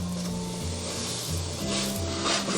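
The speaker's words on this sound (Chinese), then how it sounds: "我们就可以给它翻面了" A pocket flatbread is flipped in a pan over low heat and sizzles steadily at close range, with a continuous hiss and a low, rhythmic hum underneath.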